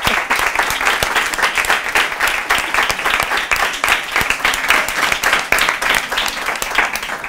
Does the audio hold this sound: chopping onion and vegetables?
no